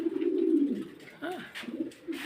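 Breeding pigeons coo in short, low, throaty bursts nearby, with a few softer murmured calls between them.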